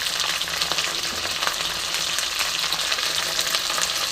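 Raw pumpkin fries with fish head and malabar spinach in hot oil, a dense, steady sizzle with crackling pops and occasional stirring scrapes, close and with no talking.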